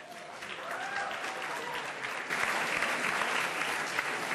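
An audience applauds an award winner at the India Abroad Award ceremony, a steady wash of clapping from a large crowd that swells slightly louder partway through and continues without a break.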